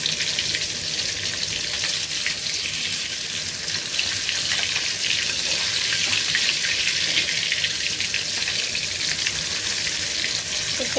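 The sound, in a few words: fish frying in oil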